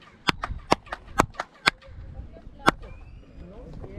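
A series of sharp hand claps at the Mayan pyramid of Chichen Itza, about eight, each followed by a chirping, cuckoo-like echo that rings back, spaced irregularly with quiet gaps.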